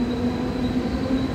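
A Mumbai local train pulls into Belapur station with a steady, loud rumble and a constant hum, no voices over it.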